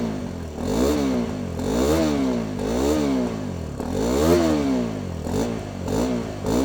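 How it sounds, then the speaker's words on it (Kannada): Hero XPulse 210 motorcycle exhaust, revving repeatedly in rising and falling sweeps, each throttle blip climbing then dropping back, loud and close with a rough, raspy single-cylinder tone. "ಗಾಡಿ ಎಕ್ಸಾಸ್ಟ್ ನೋಟ್ ಕೇಳಿಸ್ಕೊಬಿಡಿ."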